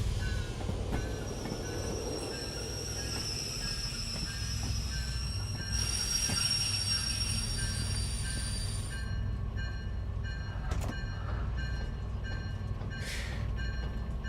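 Freight train braking in the Derail Valley railway simulator: continuous heavy rumble with high, sustained wheel and brake squeals layered on top, a few sharp clanks, and no talking.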